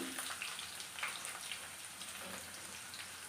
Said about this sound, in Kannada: ಈರುಳ್ಳಿ ಒಂದು ಸ್ವಲ್ಪ ಫ್ರೈ ಆಗಲಿ